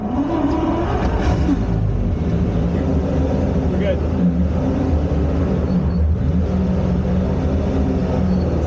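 A Ferrari 250 GTO with its original V12 runs steadily, a deep, constant rumble that holds close and loud throughout, with brief talk from people in the car over it.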